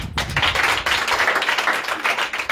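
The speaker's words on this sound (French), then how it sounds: "Applaudis, monsieur." A group claps and applauds continuously, a dense, steady patter of many hands close by, with no voices over it.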